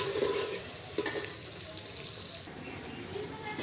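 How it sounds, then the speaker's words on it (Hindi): Two medium onions sizzle in hot oil for an aloo gajar curry, a soft, steady frying hiss with faint stirring scrapes, fairly quiet and continuous throughout. "साइज के 2 प्याज हैं, ये ऑयल में डालेंगे। जब हल्का सा ब्राउन हो जाएगा"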